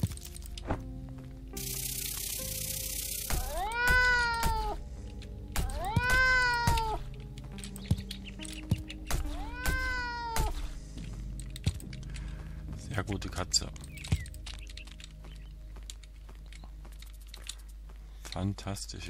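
A cat in the game Green Project gives three clear, rising meows in quick succession, close and fairly loud, followed by scattered clicks and taps.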